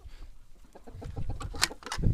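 Several chickens cluck and murmur close by, soft irregular calls building slightly louder toward the end, with light rustling around them.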